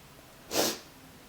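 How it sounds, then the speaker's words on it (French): A single sharp sniff, brief and close, standing alone against quiet room tone. "Ah, j'ai reniflé en même temps."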